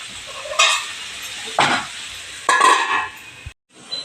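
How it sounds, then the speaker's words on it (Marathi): Bitter gourd vegetable stir-fried in a pan, three separate scraping, sizzling strokes about a second apart with faint metal clinks, then a short hush before a last stir. "मी झाकून थोडा वेळ परतणार आहे"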